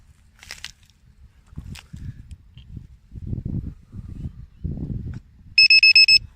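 A rapid series of high electronic beeps from a drone battery voltage checker sounds near the end, following low thumps and handling noises.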